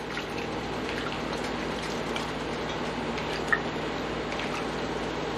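Food is rinsed in water, a soft continuous sloshing and trickling with a few faint drips and one small tick, quiet and close, with no speech.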